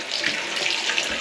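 Cold water pours steadily from a faucet in a house under repair, a close, continuous hissing splash with no break.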